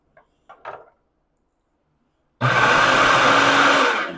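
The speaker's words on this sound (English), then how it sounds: "We put everything, our onion, our peppers, everything in the food processor." A food processor chopping onion and peppers for a canning chili base starts abruptly after a couple of faint clicks and then runs as a loud, steady, close whirring roar.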